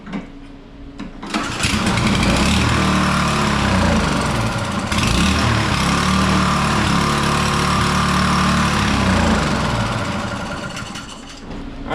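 A small snow blower engine runs roughly with a dirty carburetor, a loud close buzzing drone whose pitch surges and sags unevenly as it struggles to keep running.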